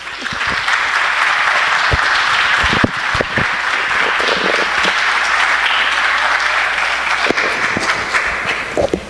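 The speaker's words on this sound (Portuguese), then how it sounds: "Batam palmas para ele, batam palmas para ele, batam palmas para ele, que ele merece" An audience at a municipal council session applauds to honor a teacher, a sustained, even wash of many hands clapping throughout, with a few sharper claps standing out near the listener.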